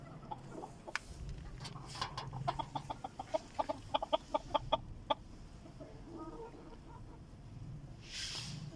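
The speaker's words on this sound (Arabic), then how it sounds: "نشوف ايش اخبار الدجاج الزينة والطيور، عندهم اكل ما عندهم" Ornamental chickens cluck nearby in a run of quick, rhythmic clucks that rise and then fade, with a faint rustle toward the end.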